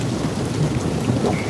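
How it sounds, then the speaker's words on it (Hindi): Light monsoon rain falls outside at night, a steady, even hiss of drops with no pauses and no voices. "बाहर हल्की हल्की बारिश हो रही है।"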